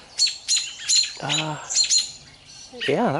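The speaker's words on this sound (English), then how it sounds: "Oh, there's a bird fight" Robins squawk while defending their nest, a series of sharp harsh calls and chirps in irregular bursts, fairly close, with a voice speaking briefly partway through.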